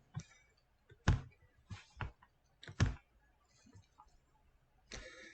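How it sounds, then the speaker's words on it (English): A computer mouse clicks while a document is saved, giving a handful of crisp, close, irregular clicks spaced over a few seconds in a quiet room. "So go ahead and click save here"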